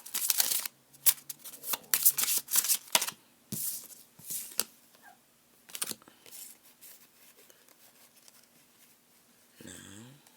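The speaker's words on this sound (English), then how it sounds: "And I'm shuffling, right? And I just keep getting spades." Playing cards are shuffled in a series of quick riffling bursts, close and crisp, trailing off into sparse soft handling noises.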